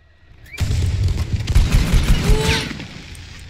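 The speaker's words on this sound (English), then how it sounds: "Oh, you saw the fireworks?" Fireworks in the video game Fortnite: a rush of loud crackling bursts and booms, dense and overlapping for about two seconds, with whistling rises, then fading into a softer tail.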